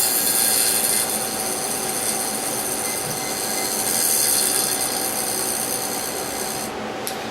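Steady broadband whooshing hum of Cooler Master Storm Trooper SE computer case fans running, continuous and fairly loud throughout with no talking, a slight hiss in the upper range.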